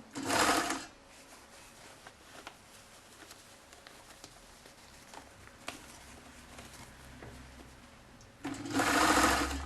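A sewing machine runs in two short loud bursts at the start and end, stitching a rib along the edge of a lined hat with poplin lining, with quieter handling sounds and a faint hum between the bursts.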